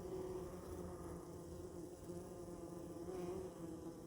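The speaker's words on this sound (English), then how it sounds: "These bees are fanning the entrance in order to spread the pheromone around from the queen" Honeybees fan their wings at a hive entrance in winter, making a steady, soft, continuous hum with a faint buzzing drone close by.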